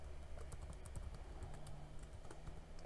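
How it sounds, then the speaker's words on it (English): Credentials being typed on a computer keyboard while setting up an Arlec Grid Connect smart power board, with quiet, irregular key clicks running steadily throughout at close range. "So I'm just going to type in my credentials here."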